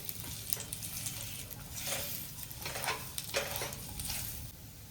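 Dates softening as they roast in hot ghee in a pan, giving a steady close sizzle with soft crackling bursts every second or so and a low hum underneath, no voices.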